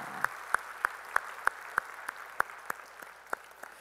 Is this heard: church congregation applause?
yes